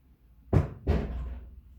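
A flying disc strikes a door during an indoor home disc golf game, giving two close knocks in quick succession, fairly loud and nearby, with a short fading rattle after.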